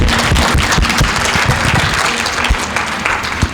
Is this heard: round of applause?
yes